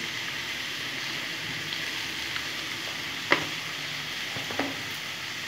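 Cucumber curry frying in a pan, a steady broadband sizzle throughout with a couple of brief clinks of a spoon stirring near the middle and end, no talk.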